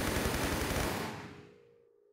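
Rapid gunfire from an M16 in Tomb Raider 3, aimed at a dart-shooting enemy in the Coastal Village level: a dense, loud burst of shots for about a second that then dies away into a fading tail and a faint low hum.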